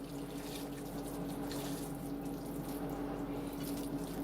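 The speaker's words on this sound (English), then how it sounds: "Let me wash my hands real quick" Hands are washed under a running kitchen sink tap, a steady close rush of water splashing continuously for a few seconds with no talk.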